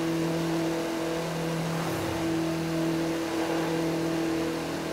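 An Audi TT RS in The Crew 2 video game accelerates hard, its engine holding a loud, steady drone with strong tonal hum and only small shifts in pitch throughout, no voices over it.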